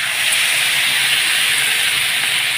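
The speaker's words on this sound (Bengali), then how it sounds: "এখন আমি জলটা দিয়ে দেবো।" Water poured into a hot pan of fried paneer curry, setting off a loud, steady hiss of steam and sizzling that continues without a break, close up and with no talk.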